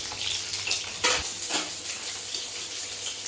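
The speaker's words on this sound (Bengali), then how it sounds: "পটলগুলো এভাবে উল্টে পাল্টে ভালো করে ভেজে নেব।" Pointed gourd (potol) fries in plenty of hot oil, a steady close sizzle with a few louder spatters and turning scrapes in the pan.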